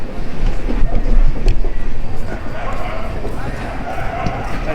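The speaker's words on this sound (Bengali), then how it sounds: "এক ঘন্টা কুড়ি মিনিট লেটে এই ট্রেনটা ঢুকলো মালদা টাউন স্টেশনে" Howrah-NJP special train pulling into Malda Town station, a dense, loud rumble of rolling carriages and platform bustle, with someone talking over it throughout.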